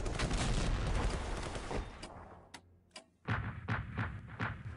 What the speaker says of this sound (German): Ach, deren Artillerie natürlich.